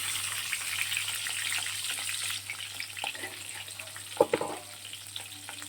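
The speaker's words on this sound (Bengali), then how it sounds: "এদিকে দেখো ডিমটা বসিয়ে দিয়েছি ভাজা।" An egg fries in hot oil in a pan, giving a soft, steady sizzle with a few crackles and a clatter near the end; the sound is faint and fairly distant.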